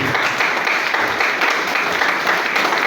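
A church congregation claps together in sustained, fairly loud applause with an even texture and slight swells, and no talking over it.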